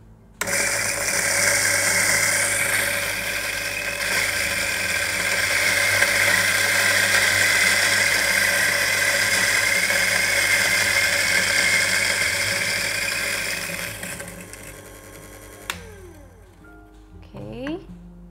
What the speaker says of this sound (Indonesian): Aku mulai giling ya di nomor 1.